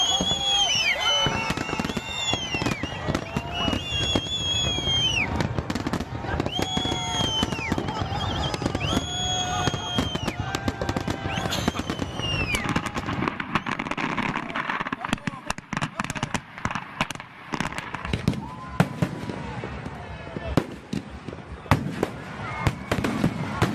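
Diwali fireworks crackling and popping in rapid bursts, with whistling rockets rising and bending in pitch, loud and continuous for over twenty seconds while a narrator talks over them.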